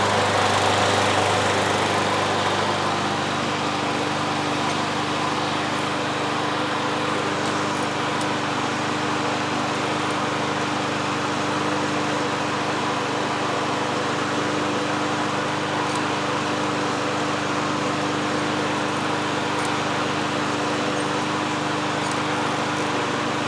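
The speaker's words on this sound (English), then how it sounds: "Starter first pull, and these wheels do pull." A Snapper lawn mower with a Briggs and Stratton engine fires up and then runs at a steady, loud drone for over twenty seconds, nearby and with no voices.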